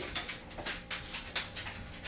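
A dog pants in short, rhythmic breathy bursts with faint whimpering, close by and fairly quiet, with no talk.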